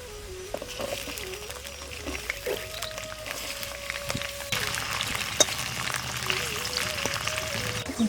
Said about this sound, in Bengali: ওর সঙ্গে বিনটা ভেজে নেব।